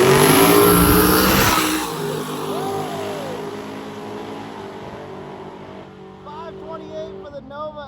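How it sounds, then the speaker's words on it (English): A white Chevy Nova drag car roars loudly down the track at a street racing event, the engine note fading into the distance as it pulls away, with background crowd noise and a voice talking over it. "We got the white Nova over here. This thing sounds nasty."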